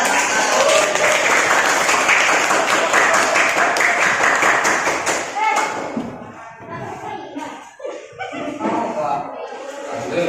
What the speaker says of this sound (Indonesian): Boleh tepuk tangan buat dia.